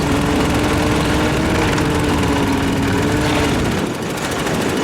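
A 1904 Mitchell Light Car's early single-cylinder-style engine drives steadily in second gear, a loud continuous chugging drone with a rough mechanical rattle, briefly dipping near the end before resuming.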